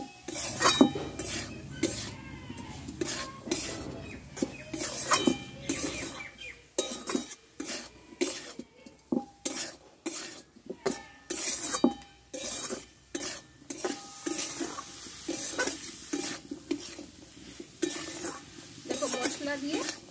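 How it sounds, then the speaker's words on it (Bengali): Grated coconut being stirred and fried with spiced potato and pumpkin in a pan for kumror chakka, rhythmic metal spatula scrapes and clinks repeating close up over a soft sizzle. "আমি নারকেল কোড়াটা দিয়ে দেবো। একসঙ্গে ভালোভাবে কষে নেব।"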